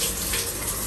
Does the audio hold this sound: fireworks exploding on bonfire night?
no